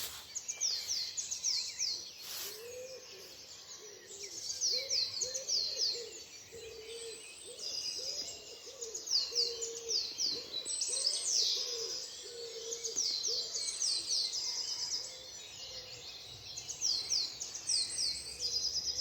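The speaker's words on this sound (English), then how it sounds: "Enjoy your dawn chorus." A dawn chorus of birds fills the air with steady high chirps and trills while an owl hoots repeatedly underneath in the distance, continuous and moderately quiet.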